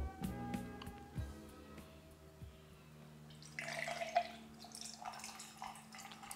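A sticky mezcal cocktail with blood orange pours from a shaker into a glass, a soft trickling splash after some faint clinks, quiet and close.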